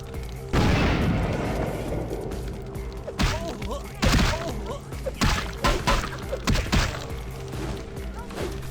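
Gunfire and explosive booms in the video game Vampire: The Masquerade - Bloodlines, a loud blast followed by a run of sharp shots and thuds in irregular bursts, close and punchy.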